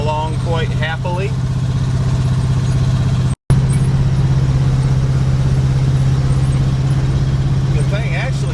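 An old International Travelall truck drives along the road with worn shocks, its engine droning in a steady loud low hum from inside the cab, with brief talk over it at the start and end.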